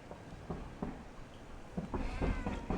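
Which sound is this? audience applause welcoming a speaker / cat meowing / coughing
cat meowing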